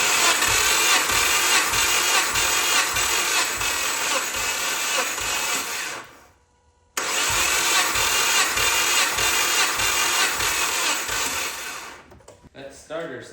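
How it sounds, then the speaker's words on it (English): The tired starter on a Subaru Forester XT cranks a cold engine in a fast, even whirring rhythm, stops for about a second, then cranks again before fading out, loud and close. "That starter sounds a little tired."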